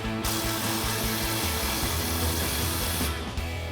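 Ratcheting and power-tool tightening of an exhaust clamp with a 15mm socket on a 2.7L EcoBoost Ford F-150 Flowmaster FlowFX dual exhaust, a steady close-up mechanical whir with rhythmic low clicks, no talking.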